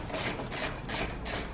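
A ratchet with an extension turns out a 10mm bolt on the air filter box of a 2013-2021 Mitsubishi Outlander, giving four quick, evenly spaced clicking strokes up close.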